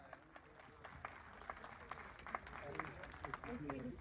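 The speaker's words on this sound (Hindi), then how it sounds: "मैं चाहूंगी कि वो भी प्रेजेंट करे बुके और जोरदार तालियां हो जाए" Audience applause at an indoor event, a scattered patter of claps that builds slightly toward the end, heard under a continuous room murmur with a voice mixed in.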